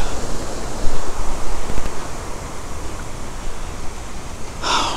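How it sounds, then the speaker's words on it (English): Big ocean waves break and surge along the Texas City Dike, a steady broadband roar of surf close by that swells loudly around the second mark and holds without talk. "I don't know where the hell them big ass waves came from"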